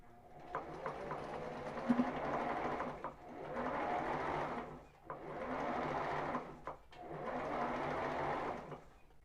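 A sewing machine runs a zigzag stitch on ribbed knit fabric for a tank top, in four bursts of a few seconds each, a close, even whirring separated by brief pauses and light clicks.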